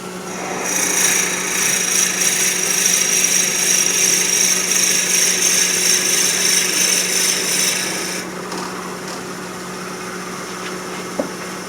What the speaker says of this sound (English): We start with the short 1 1/16 drill bit.